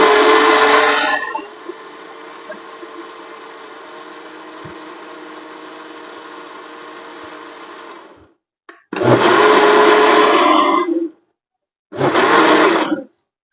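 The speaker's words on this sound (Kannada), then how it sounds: "ಮಿಕ್ಸರ್ ಎಲ್ಲ ಕಂಪ್ಲೀಟ್ ಆಯ್ತು" A kitchen mixer grinder whirs loudly in a high-pitched burst, drops to a lower steady hum, then cuts off and restarts in two more short loud pulses.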